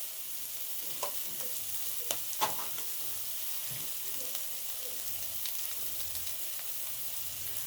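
Chopped onion and ginger fry in a pan of oil, producing a continuous fine sizzle with a few sharp spatula taps and stirring clicks scattered over it, no voices.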